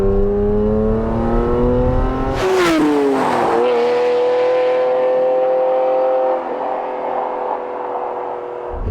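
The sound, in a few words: Ferrari F512 M cornering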